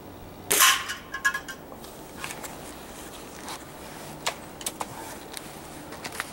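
A Gamo .177 air rifle fires once in a backyard, giving a sharp crack followed by a few faint ticks and taps as the pellet strikes a target.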